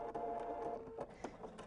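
A sewing machine stitches an applique onto stabilized fabric, a faint, steady mechanical whir with soft rhythmic needle ticks over a short stretch, nothing else heard.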